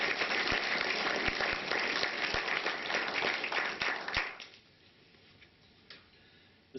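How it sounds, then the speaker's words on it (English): Audience applause at a memorial lecture on the NHS, a dense run of claps lasting about four seconds before dying away to a quiet room with a few stray claps. "Perhaps we should give him a round of applause."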